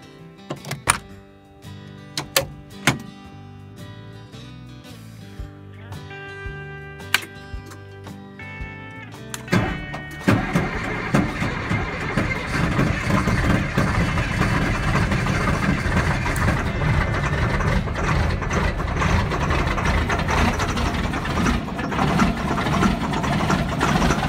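An FMTV military truck cold-starting on a frosty morning: clicks and knocks first, then around the midpoint a heavy diesel turns over and settles into a loud, steady rumbling idle that runs to the end.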